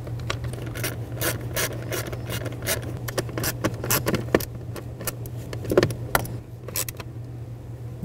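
Screws being tightened with a ratchet on a 2012-2017 Toyota Camry blower motor, with quick rapid clicking bursts and pauses over a low steady hum, close by.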